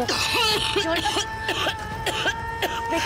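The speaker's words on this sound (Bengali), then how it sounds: "কাশি হচ্ছে কেন?" A woman in a Bengali TV drama episode coughs repeatedly in a rapid series of rough, voiced bursts. A sustained tonal music bed hums underneath throughout.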